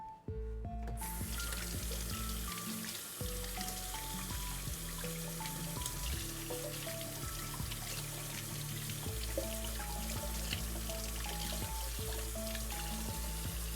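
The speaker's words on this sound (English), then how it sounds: "I'm going to quickly wash off my knife because this is a carbon steel knife" A carbon steel knife rinsed under a running kitchen tap, with water pouring and trickling steadily for over ten seconds, close and fairly quiet, with small clinks and shifting tones as the blade moves through the stream.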